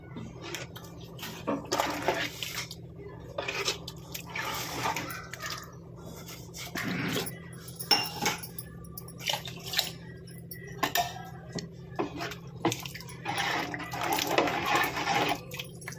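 Water splashes and trickles into a metal pot in uneven bursts, with light clinks of cookware and a steady low hum underneath.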